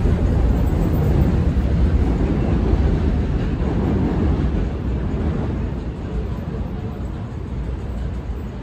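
A loud, steady rumble of an F subway train rolling into the station, a broad roar that slowly eases off over several seconds.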